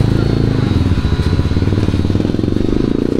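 Motorcycle engine as riders set off, a loud close chugging idle with a steady rapid pulse and rattling undertone running throughout.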